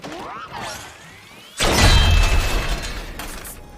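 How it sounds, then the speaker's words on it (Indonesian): A robot in an animated film is destroyed by a trap, heard as a loud crashing smash with a low boom that follows softer sweeping tones and then rumbles on for about two seconds. "Dan jadinya si Dewey hancur karena jebakan itu."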